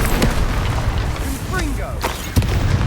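Incendio fire spell cast in the video game Hogwarts Legacy on PS4, a burst of whooshing fiery blasts and pops amid game combat sounds, with voices in the game mixed in.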